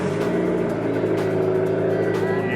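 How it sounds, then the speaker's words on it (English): Car engine on a cold start on a hot day, a loud, continuous close-up idle drone with a dense rumbling tone that holds steady for a couple of seconds. "Let's get a cold start in here."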